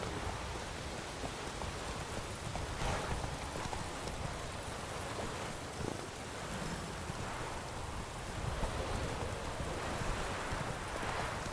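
Roach, the horse in The Witcher 3, gallops with a steady stream of dense hoofbeats under a constant wash of noise that sounds like rain or surf, with no voices.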